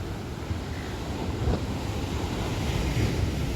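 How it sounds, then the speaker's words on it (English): Large ocean waves around 15 feet high crash and churn in a continuous heavy roar, with strong wind buffeting the microphone throughout. "these waves are about 15 feet high"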